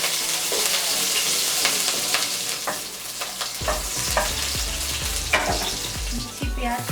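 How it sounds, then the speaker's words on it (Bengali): Chopped garlic and green chilli sizzle and spit in hot refined oil in a pan for noodles, with a steady loud crackle and a few stirring scrapes and clanks. "1 টেবিল স্পুন রিফাইন্ড অয়েল গরম করে নিলাম, তাতে দিচ্ছি রসুন কুচি আর কাঁচা লঙ্কা কুচি"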